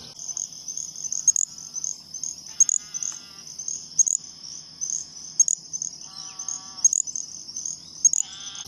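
Little grass frogs give thin, high insect-like chirps in short repeated bursts, with a few lower trills against a steady high-pitched chorus, all fairly faint.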